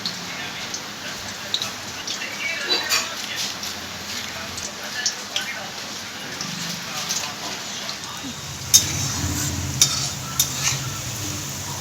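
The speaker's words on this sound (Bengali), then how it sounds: "তলা দিকটা ভাজা ভাজা হয়ে গেছে এরপর আমি পকোড়াগুলো উল্টিয়ে নিচ্ছি" Potato pakoras fry in moderately hot oil, giving a steady soft sizzle throughout with a few sharper crackles and pops near the end and low background rumble.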